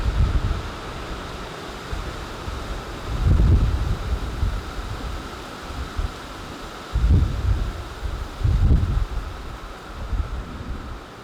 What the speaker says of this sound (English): it's just a little bit windy here